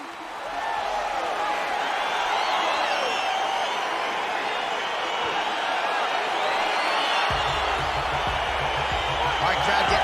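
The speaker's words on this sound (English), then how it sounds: "crowd getting excited as this fight gets underway" Video game arena crowd in UFC 4 roars and cheers continuously as a welterweight fight gets underway, a dense steady wash of voices and whoops with a low rumble joining toward the end.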